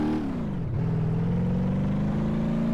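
A Maluch 126P small car in the BeamNG.drive driving game accelerates with a steady, close engine drone. The pitch dips briefly, then holds and rises gradually as the car picks up speed.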